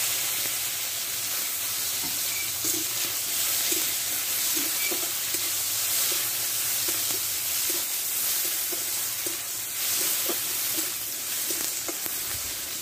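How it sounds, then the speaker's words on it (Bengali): Whole cumin, chopped green chilli and thick tomato pieces sizzling in white oil in a kadai, making a steady, close frying hiss with soft periodic stirring scrapes throughout, and no talking. "কড়াইয়ে দিয়ে দেবো একটু সাদা তেল, দেবো গোটা জিরে, লঙ্কা কুচানো দিয়ে দিলাম, আর দেবো একটা টমেটো মোটা"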